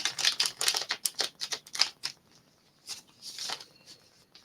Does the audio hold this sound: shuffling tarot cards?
yes